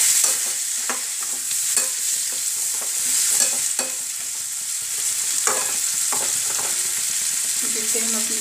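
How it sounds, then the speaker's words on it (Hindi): Onions frying in a pan for malai kofta gravy, a steady loud sizzle with repeated spoon scrapes and clinks as they are stirred, no voices. "उसके बाद हम इसमें प्याज डाल देंगे।"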